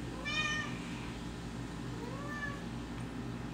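A cat meows outside a bedroom, wanting in: two drawn-out, plaintive meows, moderately close, over a steady low background hum.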